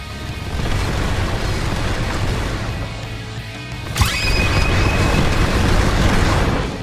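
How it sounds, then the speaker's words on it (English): In a video game, Leopard's Z move lands a dense barrage of rapid impacts that ends in a fiery shockwave with a sharp crack and a burst. The blast rings out loudly and echoes over a busy noise bed. "Dash in with the crazy barrage and it ends with the fiery shockwave"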